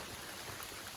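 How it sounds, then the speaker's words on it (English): Steady rain falls through a forest on a hiking trail, a soft, even hiss of drops on leaves and surfaces with no voices, faint and continuous throughout. "in the rain through the forest,"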